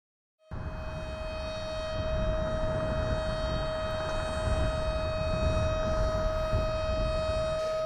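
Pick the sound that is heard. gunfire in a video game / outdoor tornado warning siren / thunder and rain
outdoor tornado warning siren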